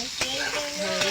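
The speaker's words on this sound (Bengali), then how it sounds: "পটলটা আমি নাড়াচাড়া করে ভেজে নেব।" Pointed gourd slices sizzle loudly in hot oil in a pan, with two or three scraping stirs of the spatula breaking through the steady frying hiss.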